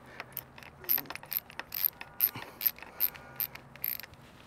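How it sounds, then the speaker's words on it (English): Ratchet wrench tightening a ground connection on a floodlight install, a series of sharp, close clicking bursts in an uneven rhythm, about a dozen ratchet strokes with brief pauses between them, no talking. "You hear that nice ratcheting action?"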